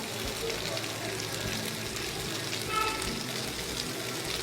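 Pirandai (adamant creeper) chutney ingredients sautéing in a pan, a steady, soft sizzle and crackle of frying that runs continuously at close range and stays fairly quiet.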